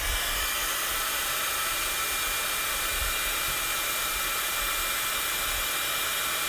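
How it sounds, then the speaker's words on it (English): A heat gun blows with a loud, constant rushing hiss that stays unbroken throughout, close up and with no talking, melting embossing powder on a stamped card. "we're gonna just heat emboss this"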